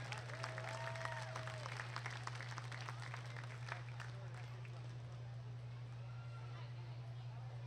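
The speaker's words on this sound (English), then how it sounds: "Let's go ahead and give these kiddos a big round of applause." Audience applause for children at a 2025 market goat showmanship event, a steady crowd clapping heard faintly over a constant low hum, with scattered voices mixed in throughout.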